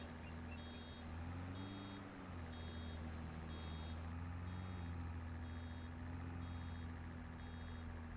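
The reversing alarm of a farm vehicle in Farming Simulator 25 beeps in a steady, evenly spaced series of short tones over a constant low engine drone, fairly quiet throughout.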